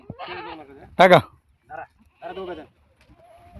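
Goats bleating at a livestock sale, one loud close bleat standing out between short bursts of people talking nearby.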